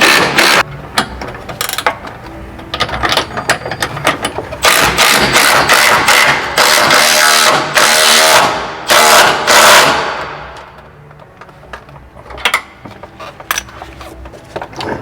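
An impact wrench tightens bolts on van side step brackets in a shop, loud rattling hammering bursts in several repeated runs with short pauses, fading to quieter clicks near the end.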